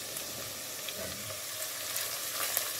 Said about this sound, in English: we'll stir fry this for about a minute on medium heat to allow the onions to release its flavors